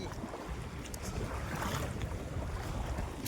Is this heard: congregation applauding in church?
no